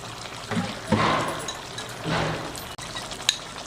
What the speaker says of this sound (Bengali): এবার আমি সামান্য জল দিয়ে দেব।